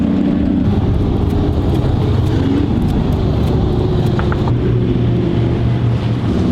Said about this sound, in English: as cars kind of just idle around the speedway